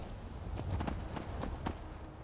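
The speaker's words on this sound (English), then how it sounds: "I'm gonna go ahead and hop off my horse." Horse hooves clip-clop at a steady walking rhythm in the Skyrim video game, a run of soft, fairly close thuds with no talking over them.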